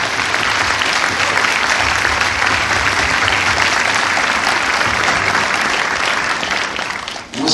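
An audience claps at a film premiere in a Paris cinema with dense, loud, continuous applause that carries on steadily and drops away at the end.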